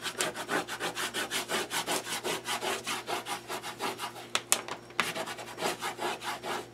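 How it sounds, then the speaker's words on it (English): Folded paper for a 6x6 mini album is burnished with quick, even back-and-forth rubbing strokes, a steady close scraping rhythm that runs throughout with no talking. "give it a little burnish"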